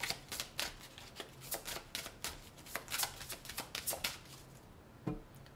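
Tarot cards being shuffled close up: a quick series of papery riffles and flicks, with one last slap near the end.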